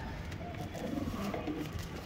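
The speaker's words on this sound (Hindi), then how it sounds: "अभी हम हमारे कबूतर दिखाते हैं तुमको।" Domestic pigeons cooing softly in a loft, low murmuring coos repeating over a steady background hum, moderately close with no one speaking.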